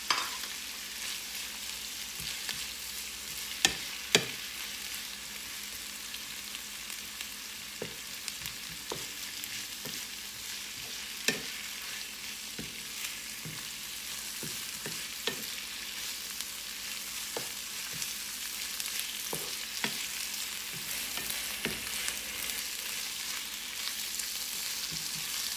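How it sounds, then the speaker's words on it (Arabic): Onion with red and green peppers frying in a pan, a steady soft sizzle with scattered clicks and scrapes from stirring, no voices. "نزيد الفلفله حمراء ونزيد الفلفله خضراء"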